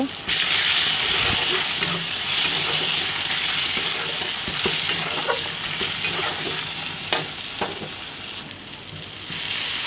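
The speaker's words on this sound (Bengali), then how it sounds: "এবারে দিচ্ছি হলুদ গুঁড়ো, লঙ্কা গুঁড়ো, দিয়ে ভালো করে কষিয়ে নেব।" Turmeric and chili powder spices sizzle loudly in a hot pan, a steady, dense frying hiss with scraping stirs running throughout.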